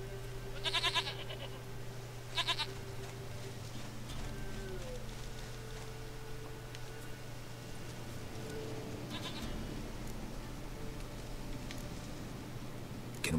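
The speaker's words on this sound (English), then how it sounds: "Goat of mine, dearest, sweetest goat." A goat bleats in The Witcher 3, two close wavering bleats near the start and a third later, heard over a steady low in-game ambient hum.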